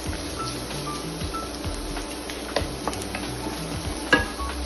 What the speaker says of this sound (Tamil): அது கூட இந்த இஞ்சி பூண்டு கிரேட் பண்ணி வச்சிருக்கதையும் போட்டு கொஞ்சம் அந்த பச்சை வாசனை போற வரைக்கும் லைட்டா வதக்கணும்.